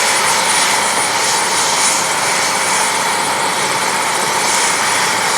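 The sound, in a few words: helicopter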